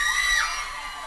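Women in a show audience holler and scream together, a loud, bright burst of crowd shrieking and yelling that fades slightly over a second.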